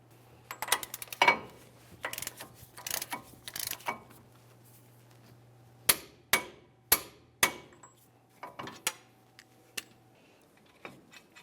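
On a 2005–2010 Dodge Dakota front hub, a torque wrench tightens the axle nut, making sharp metallic clicks and taps in irregular bursts with quiet gaps, close up and without speech.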